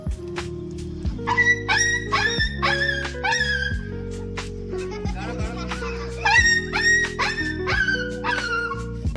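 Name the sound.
child imitating a dog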